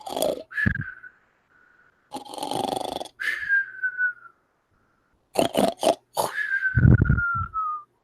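A voice imitates a male monkey snoring, with several drawn-out wheezing snore breaths and whistling exhales, spaced apart with pauses between them, close and alone.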